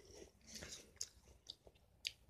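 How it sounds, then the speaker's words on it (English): Chewing and biting into an apple, with a few crisp crunches spaced through quiet mouth sounds, close and fairly faint, with no talking. "Let's eat an apple."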